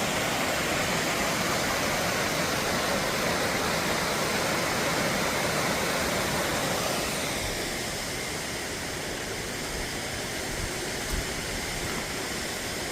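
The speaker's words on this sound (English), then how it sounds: "What a beautiful waterfall." Waterfall feeding a creek in deep snow, a steady broadband rush of falling water that stays close and constant throughout, softening slightly partway through with no voices.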